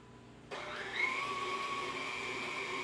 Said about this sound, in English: to turn the mixer on just a little bit faster